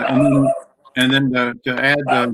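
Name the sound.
dog barking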